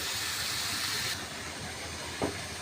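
Meat fries in a pan with spices, fried onion and garlic paste, giving a constant close broadband sizzle and hiss with a brief utensil clatter near the end, and no talking.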